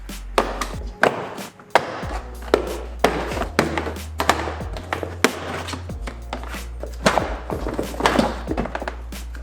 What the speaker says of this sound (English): put it right in the edge and slide it down and pop those tabs out